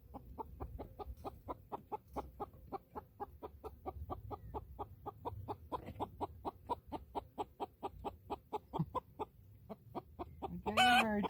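Newly arrived backyard chickens cluck in a quick, steady run of short rhythmic calls right beside the coop, close and fairly loud, ending in a louder burst of squawking.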